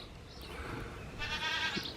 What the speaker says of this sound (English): the goat has arrived, and it is a loud guy